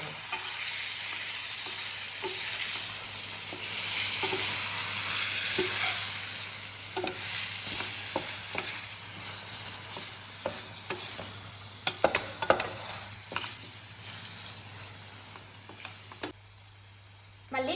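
A spoon stirs a tomato curry in a pan after washed coriander leaves go in, with a soft continuous sizzle under a series of light scraping and tapping clicks that grow busier toward the end.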